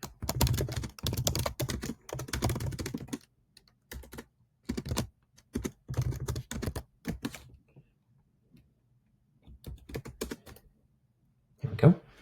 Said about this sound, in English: write a quick query